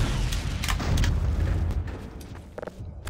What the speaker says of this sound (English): the magnetons explode on contact with the ground